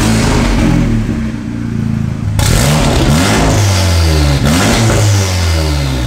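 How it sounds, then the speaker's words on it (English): VW Golf R engine running with no exhaust fitted, loud raw revving that surges and drops in repeated bursts, harsh and close with a clattery edge and no talking. "it'd be a YouTube crime if I didn't start the car with no exhaust on"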